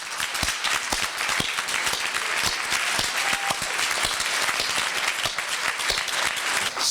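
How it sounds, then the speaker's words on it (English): A Rotary Club luncheon audience applauds honorees at an Unsung Heroes recognition, a dense, steady round of clapping that fills the room and holds evenly throughout with no talking over it. "Please stand and get a round of applause."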